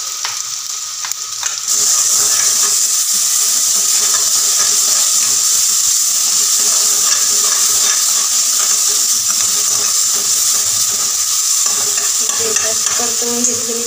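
Spice paste dropped into a pan with onion while making aloo paratha, bursting into a loud, steady sizzle after a short quiet start, with faint stirring scrapes over the constant frying hiss.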